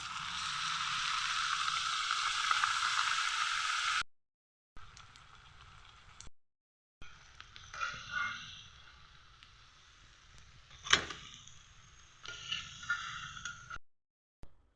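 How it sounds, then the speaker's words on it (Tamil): Tapioca samosas deep-fry in hot oil, giving a steady bright sizzle that stops and starts, with a few scraping clinks of a utensil against the pan between softer stretches of bubbling. "அடுத்து மீதி உள்ளதை எல்லாத்தையும் பொரித்து எடுத்துடலாம்"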